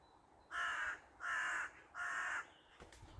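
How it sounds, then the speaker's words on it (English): A crow calls three times in a steady, evenly spaced series of harsh caws, moderately distant outdoors over quiet background, followed by a faint rustle. "There's a crow right up there."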